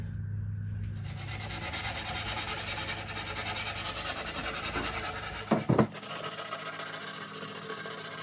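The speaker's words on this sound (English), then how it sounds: "I'm going to sand this real quick just to clean it up a little bit" Sanding the milled wooden shell of a cajon produces a steady, close scratchy rubbing that runs continuously for several seconds. A couple of brief knocks follow, then a sharper, brighter sanding sound continues.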